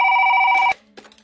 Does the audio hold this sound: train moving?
no